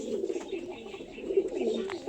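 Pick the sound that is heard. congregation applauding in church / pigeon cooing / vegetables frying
pigeon cooing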